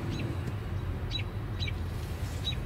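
A young bird calls in short, high chirps, about three thin calls spaced apart, heard faintly over a steady low hum from a car interior.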